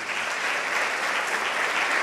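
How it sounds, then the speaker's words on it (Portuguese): A church congregation applauds, a dense, steady wash of clapping that fills the whole short moment at full volume. "Pode bater palmas para o Senhor."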